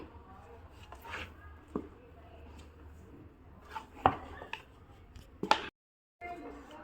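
A spoon stirs flour dough in a hot pan for Sankranti sweets, with faint scattered scrapes and a few soft clinks against the pan. The sound is quiet and close.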